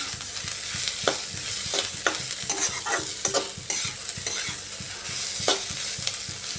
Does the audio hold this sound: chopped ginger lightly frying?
yes